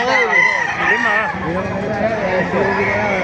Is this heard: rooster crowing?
yes